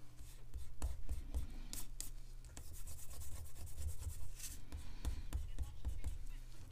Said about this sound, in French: vous pouvez gommer votre trait.